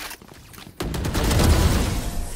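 Valorant gunfire: a rapid burst of shots erupting abruptly after a brief quiet moment, loud and dense, sustaining as continuous crackling fire for over a second.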